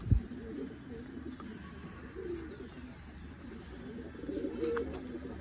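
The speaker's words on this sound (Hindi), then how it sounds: "एक भाई ये बसरा टाइप का कबूतर है" Soft, steady cooing from a Basra-type pigeon, a low murmuring coo repeating throughout at close range against a quiet background.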